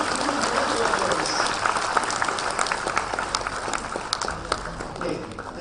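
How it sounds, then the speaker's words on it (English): Crowd at a live medical college guidance event applauding for parents, dense close clapping with sharp individual claps, sustained then tapering slightly. "A louder applause for our parents, guys."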